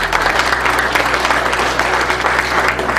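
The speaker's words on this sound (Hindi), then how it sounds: "ईमानदारी से प्रोमो कैसा था, सबकी तालियां बताएं।" Dense, steady applause from a large studio audience fills the whole stretch, loud and continuous with no voices over it.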